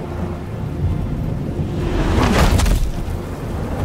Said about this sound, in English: Bro, and it's raining.